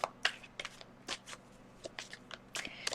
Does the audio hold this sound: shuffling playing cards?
yes